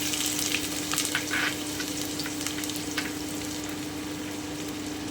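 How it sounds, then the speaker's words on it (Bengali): Chopped onion fries in hot oil over lowered heat for a spicy egg bhujiya, giving a continuous close sizzle with faint stirring scrapes and no talking. "তেলটা গরম হয়ে গেল এবারে আঁচটা একটু কমিয়ে দিচ্ছি আমি প্রথমেই কুচনো পেঁয়াজটা দিয়ে দিচ্ছি"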